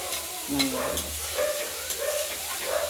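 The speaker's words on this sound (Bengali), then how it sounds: "ফুলকপি নাড়াচাড়া করছি" Chopped cauliflower with peas being stirred as it fries in a wok, soft scraping strokes and a light sizzle repeating every second or so, close and moderately loud.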